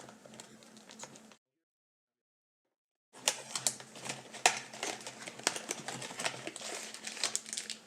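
Sony A7SIII camera package being unboxed: crisp crinkling of plastic and cardboard handling with rapid clicks, close and fairly loud, broken by a brief silent gap midway.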